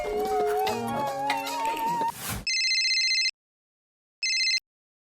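After a burst of music cuts off, a phone's ringback tone sounds twice, a steady electronic trill followed by silence, then repeating.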